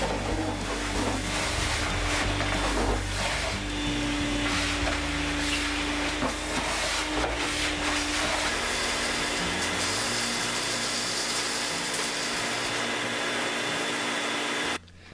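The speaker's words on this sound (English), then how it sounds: "Let's see if I can vacuum the floor. This is a 5 horsepower shop vac," A 5 horsepower shop vac vacuums a workshop floor, its loud continuous motor whine and suction roar steady for most of the stretch before cutting off abruptly at the end.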